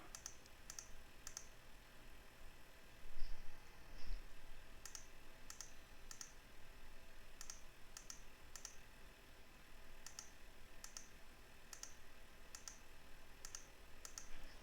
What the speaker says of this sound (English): now I can just enter it right here by clicking the cells